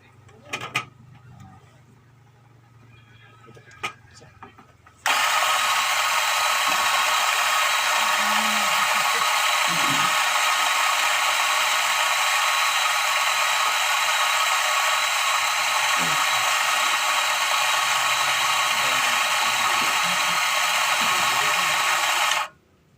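Coffee grinder grinding Kerinci arabica beans, a loud steady whirring roar that starts abruptly after a few quiet seconds, runs unbroken for about seventeen seconds, then cuts off.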